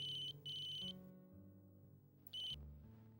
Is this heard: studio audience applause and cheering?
no